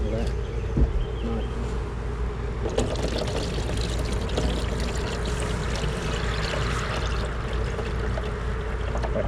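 Liquid, likely syrup, pours steadily during a first beehive inspection after a package install, mixed with a continuous loud buzzing of bees close by, with occasional voices in the background.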